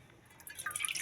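A little water trickles and drips into a spicy fish curry cooked without onion or garlic, a faint, close patter of drops growing slightly busier toward the end, with no voices.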